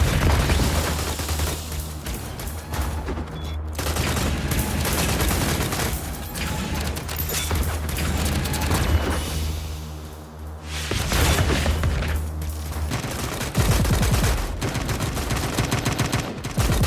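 Gunfire in a first-person shooter made in Dreams on PSVR, with dense bursts of rapid automatic shots and booming blasts ringing out continuously, loud and close, broken by brief pauses.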